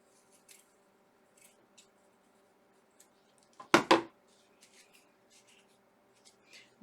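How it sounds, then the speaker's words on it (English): Scissors snip through a drop cloth behind a ribbon, with two close, crisp cuts in the middle and faint scattered rustling and clicks before and after. "Now I'm trying to be careful not to cut my ribbon, just cutting the drop cloth that's behind it"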